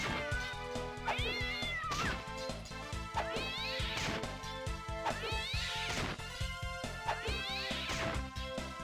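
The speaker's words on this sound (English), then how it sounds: "as funny as the cat noise is at first, if you do something like this, it gets real old" Repeated cartoonish cat meows from Castlevania: Dawn of Sorrow, several rising yowls in quick succession over game music with hits and crashes, loud and up front.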